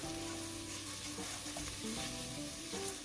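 Spices with basil and thyme stirred in an oiled pot for broccoli pasta soup, a soft steady sizzle with light scraping and clinking, close and fairly quiet, with no talk.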